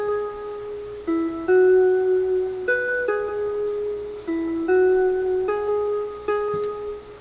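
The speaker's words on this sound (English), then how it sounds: "And then I put this jazz guitar underneath it." Jazz guitar layered underneath a beat, playing a series of clean, sustained notes and chords that change every half second or so, mid-level and without any voices.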